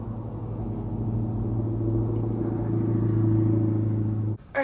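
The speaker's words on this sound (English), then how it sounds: "oh, there's a car." Low engine hum of a car passing outside, building gradually to a broad, moderately loud peak and then cutting off near the end. It sounds somewhat distant and muffled, with no talking over it.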